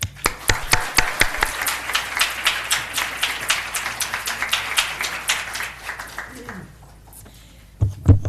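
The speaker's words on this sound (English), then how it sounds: "Let's have another round of applause for Marcus" An audience at a university lecture in urban health breaks into steady, crisp applause that fades out near the end, followed by a brief voice.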